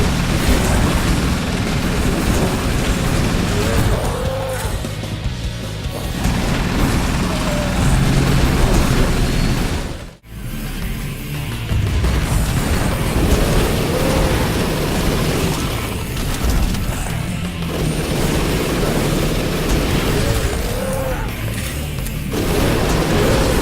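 Explosions and gunfire in the top-down zombie shooter Nation Red keep up a dense, loud barrage of booms and crackling blasts, broken once by a brief sharp dropout midway.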